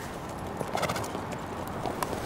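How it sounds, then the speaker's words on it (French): Racehorses' hooves clop at a Tokyo racecourse, a scattering of quick muffled hoofbeats over a soft crowd-like background, fairly faint and without speech. "elle n'aurait sans doute jamais prêté attention à ces jockeys, ces chevaux qui défilent devant elle"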